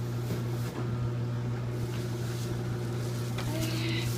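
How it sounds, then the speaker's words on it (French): Steady low mechanical hum of a household washing machine running nearby in a home, a constant drone filling the background with faint clatter on top. "Désolée pour le bruit, hein, c'est la laveuse."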